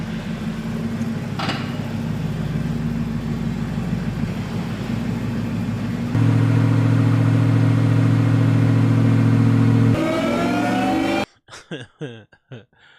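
Car engine revving hard on a dyno, a loud sustained drone that steps up in pitch and volume partway through, then cuts off abruptly before a short burst of talk.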